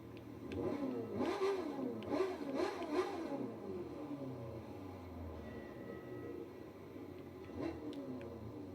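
The fastest motorcycle in the video game The Crew 2 revs its engine, a mid-pitched throttle surge that climbs and falls in quick bursts over the first few seconds, then settles into a quieter, steady engine drone with no talking.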